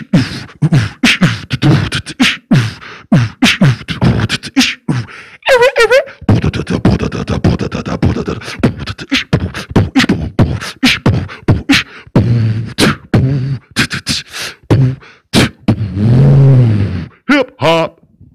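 A man beatboxes a hip-hop beat, his voice imitating kick and snare drums in a close, rhythmic run of sharp percussive bursts with short pauses, performed alone.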